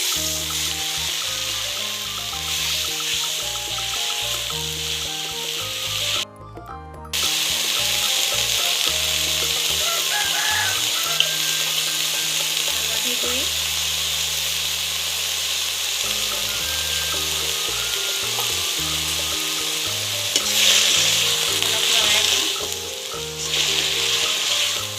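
Drumstick flowers fry in hot oil with onion as they are stirred, giving a steady, loud, close sizzle that runs almost throughout, with a brief break partway and soft low background tones.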